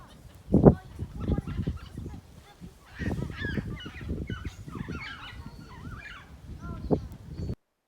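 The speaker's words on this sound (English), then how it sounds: "you'll start to notice the sounds of birds all around you" Honking, goose-like bird calls sound repeatedly over a busy outdoor background on an Australian beach, with one sharp loud call near the start and others scattered throughout.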